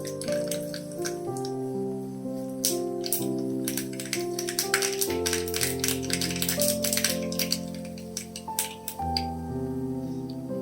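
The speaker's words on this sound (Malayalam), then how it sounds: "നമുക്ക് ഇതിലേക്ക് കടുക് ഇട്ട് കൊടുക്കാം" Sharp, irregular popping and crackling of mustard seeds spluttering in hot oil rattles steadily over soft background music.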